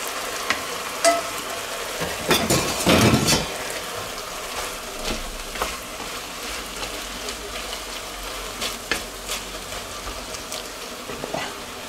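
Vegetables and ingredients tipped back into a cooking pot with vegetable broth for an asparagus fillet stew, giving a soft sizzling simmer with a brief louder clatter and splash early on, then steady low bubbling and faint stirring.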